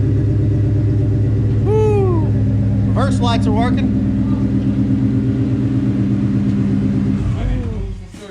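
A restored car on its first drive idles and rumbles steadily close by, a low engine drone running throughout while people cheer and talk excitedly over it.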